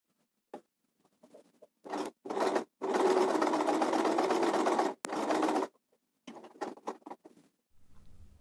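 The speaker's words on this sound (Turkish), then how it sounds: "Ve makine geri geri gitmiş oluyor." A home sewing machine stitching a buttonhole, running in short bursts and then one long steady whirring run of nearly three seconds, followed by scattered clicks and brief stitches; close and fairly loud, with no talk.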